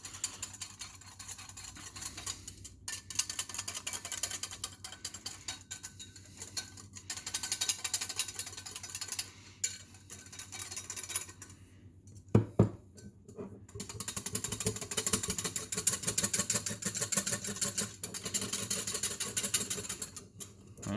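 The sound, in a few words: whisking cake batter until smooth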